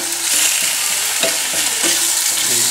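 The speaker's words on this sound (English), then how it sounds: "And just keep on stirring that around so it browns." Meat browning in a pan for barbacoa, with a steady frying sizzle under repeated scraping strokes of a spoon or spatula stirring it around.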